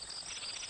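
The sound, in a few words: grasshopper sound from a Sesame Street bug app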